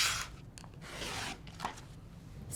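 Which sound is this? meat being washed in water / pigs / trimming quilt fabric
trimming quilt fabric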